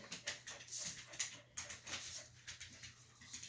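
Dogs in a room whimper and pant in short soft bursts, faint and intermittent, with a small high chirping note mixed in.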